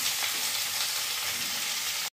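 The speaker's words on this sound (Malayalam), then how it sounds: "സവാള ഇട്ട് കൊടുക്കാം. ഇനി നന്നായി വഴറ്റണം കേട്ടോ." Onions sautéing in a pan for chicken curry give a loud, steady, close sizzle that runs without a break for about two seconds and then cuts off.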